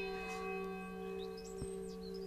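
Church bells ring at eight in the morning before sunrise in Lavina, Italy, during a saffron harvest. The steady, sustained tones sound quiet and distant.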